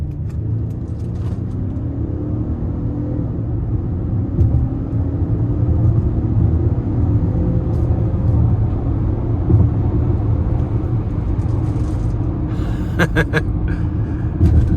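A 2026 Lincoln Nautilus Reserve II AWD with a 2-liter turbo four accelerates moderately, its steady engine and road rumble heard loud from inside the cabin, with a few brief clicks near the end.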